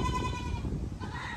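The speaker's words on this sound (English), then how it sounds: "the beginning of our goat story. Started with one goat." A goat on a goat farm lets out a short, wavering bleat, close and clear over low background noise.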